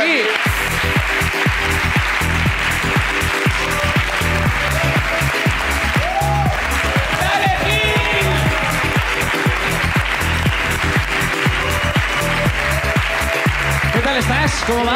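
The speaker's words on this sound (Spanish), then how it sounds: "Un aplauso para él, por favor" Audience applause at a live Spanish comedy podcast show, a dense and steady wash of clapping that keeps going throughout, with a voice briefly audible over it.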